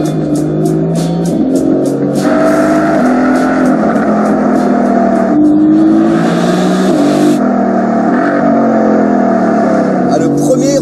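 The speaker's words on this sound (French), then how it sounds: "c'est l'AMG GTS qui entre en piste avec Anthony Beltoise." A Mercedes-AMG GT S V8 sports car entering a race track, its engine loud and close with repeated rising and falling revs and gear changes, under continuous talk from a commentator.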